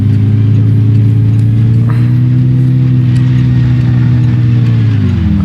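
Engine of an MK3 Jetta in the BeamNG driving game, a loud, steady low drone held at near-constant revs, then sagging slightly as it eases off near the end.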